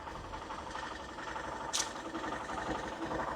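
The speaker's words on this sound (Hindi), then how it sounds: "आइडियल कंडीशन पर इंजन साउंड और एग्जॉस्ट नोट भी सुनो" A Hero Super Splendor XTEC 2.0 motorcycle engine idles with a steady, even exhaust note, a close continuous thrum with a brief sharp click partway through and no talking.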